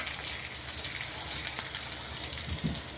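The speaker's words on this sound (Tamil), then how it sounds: "தாளிப்புக்கு வெங்காயம் வதங்கிட்டு இருக்கு, இன்னும் கொஞ்சம் வதங்கணும்" Onion fries for tempering an anchovy fish curry, a soft, steady sizzle and crackle in hot oil with a light scrape near the end, close and quiet.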